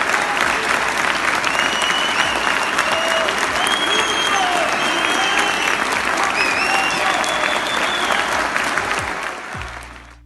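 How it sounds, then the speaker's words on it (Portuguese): A theatre audience at a urologists' congress in Curitiba gives a standing ovation, with dense, sustained applause and some crowd noise filling the hall for about ten seconds before it tapers off at the end. "Esse vídeo mostra o procurador sendo recentemente aplaudido de pé em um teatro de Curitiba durante um congresso de urologistas."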